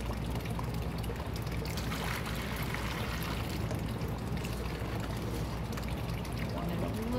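Water pours and trickles steadily while stepping stones are made from cement in a palm tree chip tray, a low continuous wash close by with faint talk beneath it.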